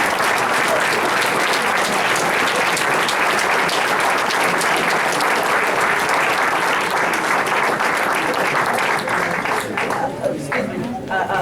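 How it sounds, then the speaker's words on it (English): Sustained audience applause at a political convention caucus meeting, loud and dense, with many hands clapping together, tapering slightly near the end as voices emerge. "Please, let's give President Parker a round of applause for this resolution."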